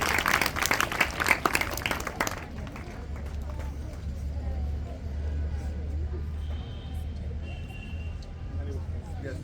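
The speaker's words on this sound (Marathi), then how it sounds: "पुन्हा एकदा जोरदार टाळ्या वाजवून आजच्या पाहुण्यांचं आपण स्वागत करू." An audience at a stories-and-songs program claps to welcome the guests, a dense burst of applause for about two seconds that gives way to a low hum and murmuring room noise.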